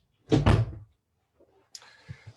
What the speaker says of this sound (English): Go out, close the door.